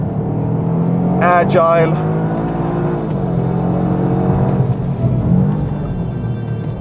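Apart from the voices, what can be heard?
Toyota GR Yaris engine driving on race track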